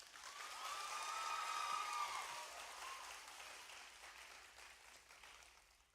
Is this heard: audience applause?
yes